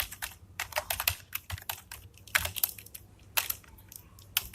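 Fingers type code on a computer keyboard in quick, uneven bursts of close, crisp key clicks separated by short pauses, with no speech.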